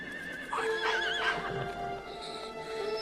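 A horse whinnies in a long, wavering neigh, with a softer second call and faint hoof clops beneath, fairly close and clear.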